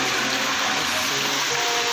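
Heavy rain and rushing runoff in Multan, a dense continuous hiss of falling and flowing water, loud and unbroken with no talk.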